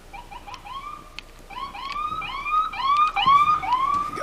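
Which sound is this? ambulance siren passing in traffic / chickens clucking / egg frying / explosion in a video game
ambulance siren passing in traffic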